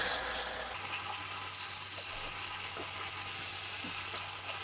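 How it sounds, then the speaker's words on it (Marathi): Date paste frying in ghee in a pan, a soft, steady sizzle with faint stirring scrapes, heard alone without talk. "ही जी खजुराची पेस्ट आहे ती घालते त्याच तुपामध्ये करणार आहोत आपण थोडीशी परतून घेऊया"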